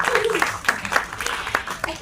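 Someone claps their hands a few times, in sharp but fairly quiet, uneven bursts, mixed in with conversation.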